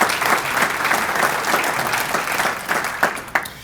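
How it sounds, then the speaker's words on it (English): Guests at a mayor and council breakfast break into warm applause, a full, sustained patter of many hands with a few sharper claps standing out near the end. "So let's give them a round of applause, please."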